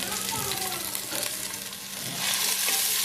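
Ginger and green chilli frying in a pan for a Mangalore-style fish curry, a steady close sizzle with occasional stirring scrapes, swelling slightly louder toward the end.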